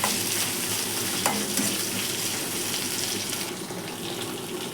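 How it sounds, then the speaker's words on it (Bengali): Potatoes fry in hot oil in a pan, giving a steady, close hiss and crackle that runs without a break for the whole stretch. "আমি এবার তেলের ওপর এই আলুটা দিয়ে দিলাম।"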